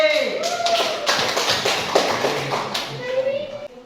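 Students applaud a group in a classroom, a patter of scattered hand claps and taps running under a voice and some chatter.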